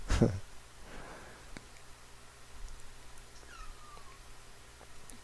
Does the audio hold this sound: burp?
no